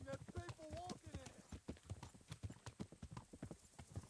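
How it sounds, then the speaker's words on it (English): Several horses clip-clop along a wide road in the medieval game Kingdom Come, with steady overlapping hoof strikes close by, a brief whinny near the start and people talking underneath. "in this wide ass road when there's like 6 horses in the road"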